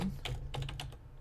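Typing on a computer keyboard while editing a Joomla site menu: a quick run of close, light key clicks in an uneven rhythm over a faint low hum.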